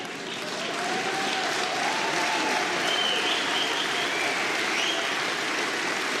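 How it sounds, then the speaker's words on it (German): An audience at a Left Party conference breaks into sustained applause, a dense wash of clapping that swells after the first second and holds steady throughout. "dass ihr beim zweiten Mal mehr klatscht als beim ersten Mal"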